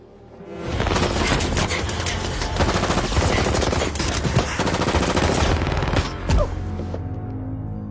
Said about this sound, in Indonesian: hingga terjadilah aksi tembak-tembakan